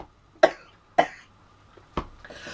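Three sharp coughs spaced about half a second to a second apart, close and fairly loud, with quiet room sound between them.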